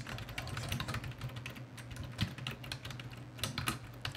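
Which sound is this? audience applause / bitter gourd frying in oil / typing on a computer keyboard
typing on a computer keyboard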